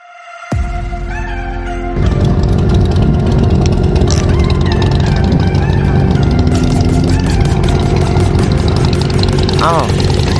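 A motorcycle engine idles loud and close with a steady throbbing hum during a bikers' gathering, while voices shout and talk over it.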